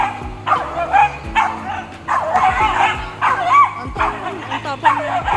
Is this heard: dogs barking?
yes